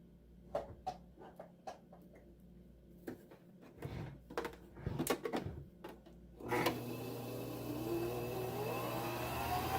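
A Singer Tradition sewing machine runs steadily while winding a bobbin, a continuous motor whir after a series of sharp mechanical clicks and knocks, close and fairly quiet.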